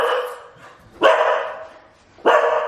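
A pet dog barks when its owner pulls into the driveway at home, giving three sharp, loud barks spaced about a second apart, close to the listener and with no talking.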